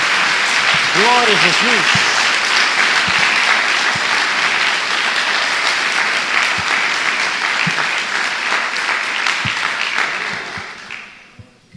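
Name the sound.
congregation applause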